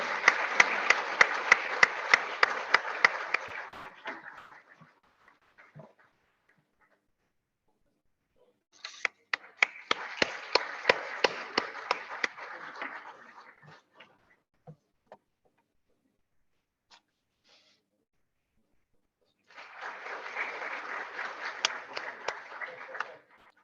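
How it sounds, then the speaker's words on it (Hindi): Audience clapping at a lecture series session while a guest is welcomed, coming in three separate bursts of a few seconds each, with near silence between them. "जरा हम तालियों में कंजूसी ना करें।"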